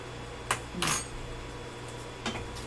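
A spoon clinks against a pot of keto chicken curry, a few brief, light metallic taps spread across a quiet stretch with a low steady hum underneath.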